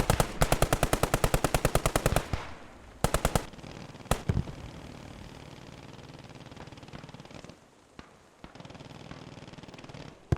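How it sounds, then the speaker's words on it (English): Machine gun suppressing fire in a squad-based multiplayer war game, a loud, close burst of rapid rhythmic shots for about two seconds, then shorter bursts and single cracks over a low ambient rumble. "Nice to see MG suppressing while the squad moves up."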